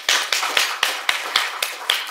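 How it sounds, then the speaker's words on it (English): Applause for a student in a classroom lecture comes across as a sparse run of about eight crisp, evenly spaced claps, close and distinct rather than a full crowd roar. "Can we have a round of applause for Safa?"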